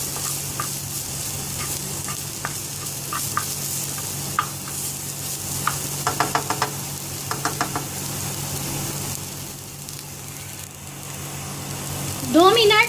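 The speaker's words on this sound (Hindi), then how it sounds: "दो मिनट इन वेजिटेबल्स को फ्राई कर लेने के बाद" Vegetables including carrots fry on low heat, a steady soft sizzle running throughout with a series of light spoon scrapes and taps against the pan, ending in a brief louder burst of sizzling.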